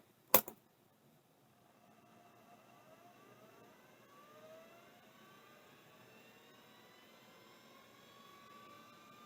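A used hard drive powering up on a test bench: a sharp click of the power switch, then a faint, steady whine that rises slowly as the platters spin up, with no talk.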